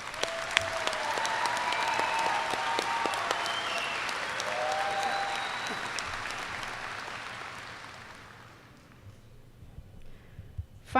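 Sustained crowd applause at a high school graduation ceremony, with a few cheers and shouts early on, fading out after about eight seconds into quieter room noise.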